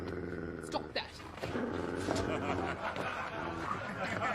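A dog growls and snarls through a busy film scene, its rough low rumble layered under dialogue, music and background noise, with sharper bursts near the start.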